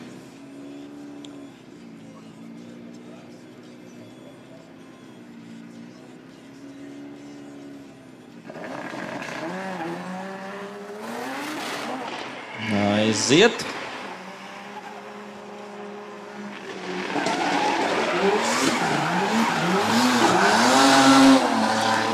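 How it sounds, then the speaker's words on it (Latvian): A loud drift car revs hard and its tires skid during a semi-pro qualification run at a drifting competition, with engine pitch rising and falling and a sharp squeal midway. A commentator talks over it throughout. "Arī tāds viens no skaļākajiem automobīļiem."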